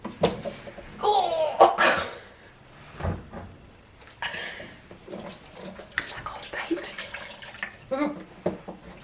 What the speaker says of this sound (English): So I'm just gonna sponge this out